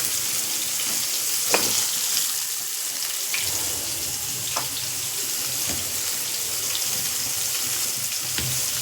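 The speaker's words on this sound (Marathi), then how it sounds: "हे बघा, असे बोंबील फ्राय करते" Bombay duck (bombil) fish fry in a pan, giving a steady broadband sizzle throughout with a few sharp clicks and splatters, close and fairly loud, with no talking.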